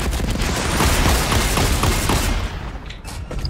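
Rapid video game gunfire rattles in dense continuous bursts, loud and close, easing off into scattered shots toward the end.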